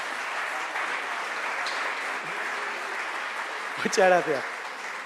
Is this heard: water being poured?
no